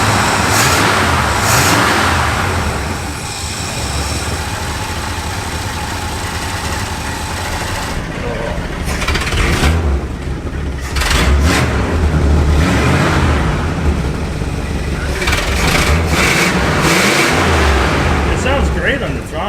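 An old Cadillac engine, long stored and running on poor timing, revs and idles roughly with a loud, steady mechanical drone, surging at intervals. Voices talk over it.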